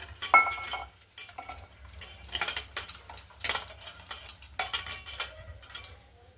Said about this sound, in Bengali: এবার দেখুন জল দিয়ে আমি মেখে নিচ্ছি।